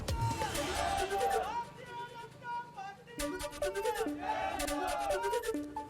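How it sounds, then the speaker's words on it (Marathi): Supporters celebrate in Murum village, Dharashiv, with firecrackers and a colourful powder shower: a crowd's cheering and shouted chants rise and fall in waves, with voices calling out over the noisy gathering. "धाराशिवमध्ये मुरुम या त्यांच्या मूळगावी समर्थकांकडून जल्लोष"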